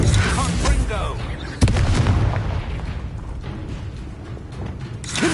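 Confringo blasting spells explode during a fight in Hogwarts Legacy, with a sharp booming impact around one and a half seconds over dense, continuous crackling and rumbling combat noise.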